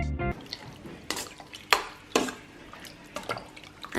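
Diced chicken being mixed by hand or spoon in a bowl with a wet soju marinade: wet squelching, sloshing and a few sharp clinks against the bowl, close and fairly quiet, with no talking.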